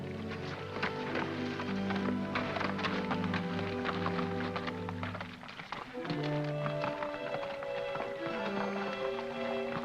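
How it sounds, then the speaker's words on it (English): Horse hooves clip-clop steadily beneath loud music, with a brief lull in the middle before the hoofbeats and music resume. "This horse is a decoy."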